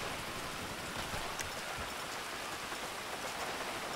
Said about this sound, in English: I must say this rain has been pretty brutal on my Weasel News fan